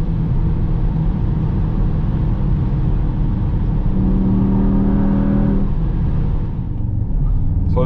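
Mercedes-AMG GT63 S E-Performance, 843 hp, accelerating hard on the Autobahn: a loud, steady engine roar and road rumble that climbs in pitch, with a brief rising whine near the end before easing off.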